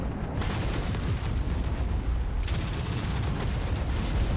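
Explosions and heavy weapon fire rumble through a MechWarrior 5 Mercenaries battle as a mech is destroyed, a dense, continuous boom with bursts of crackling debris, loud and close throughout.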